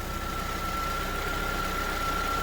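Car radiator electric cooling fan running steadily with the engine idling and the AC on, a loud constant whir with a steady tonal hum, heard up close and alone with no talk.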